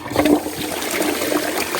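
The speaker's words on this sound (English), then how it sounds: "And when you flush" Flushing toilet fitted with an EverFill reusable rim insert, water rushing and gurgling steadily through the bowl at close range, continuous for the whole stretch with no voices.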